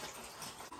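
A brief burst of running tap water, steady and close, as it rinses copper scales.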